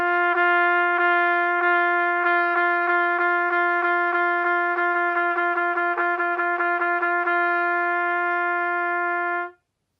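A wind instrument holds one sustained note, gently re-articulated with soft legato da tonguing in a steady, gradually quickening series of pulses, clear and alone before stopping.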